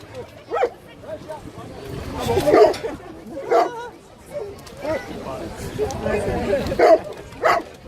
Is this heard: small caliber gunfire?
no